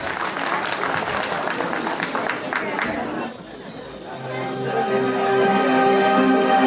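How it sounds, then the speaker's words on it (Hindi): An audience at a Basant Panchami festival event in Kumaon applauds young children after their performance, a dense burst of clapping and crowd noise that gives way abruptly to music. "तो एक बार उनके लिए जोरदार तालियां प्लीज"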